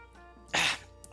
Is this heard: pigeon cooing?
no